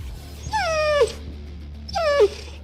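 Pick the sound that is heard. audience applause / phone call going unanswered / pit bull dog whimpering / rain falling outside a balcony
pit bull dog whimpering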